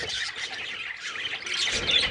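Several small pet finches chirping and twittering together in a cage nearby, a busy continuous chatter with no talking.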